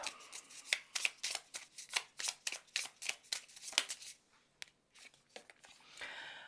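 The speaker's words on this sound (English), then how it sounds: "So I'm going to pull a Omen card to see what that wrap up is." Oracle cards being shuffled: a run of quick, crisp riffling swipes in a steady rhythm, then a few slower slides as cards are pulled, fairly quiet and close.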